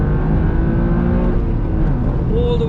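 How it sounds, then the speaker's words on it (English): Sports car with a carbon roof revving hard to the top of its rev range, a loud, continuous high-pitched engine wail with rising harmonics, close and sustained throughout. "All the way to the top of the rev range"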